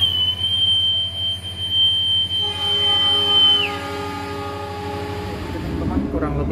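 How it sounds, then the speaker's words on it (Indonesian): The Baturraden Express pulls out of Ciamis station in Indonesia with a sustained high metallic wheel squeal, then a rising engine and rolling rumble, loud and nearby. "kereta api Baturaden Express bergerak meninggalkan stasiun Ciamis"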